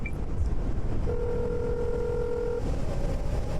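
A phone in a video game placing an emergency call to 112: a short keypad blip, then a single steady dial tone held for about a second and a half over a low background rumble.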